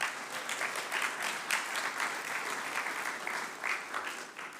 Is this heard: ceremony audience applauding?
yes